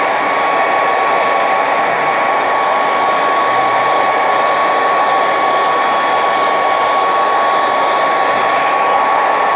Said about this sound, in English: Use a hairdryer.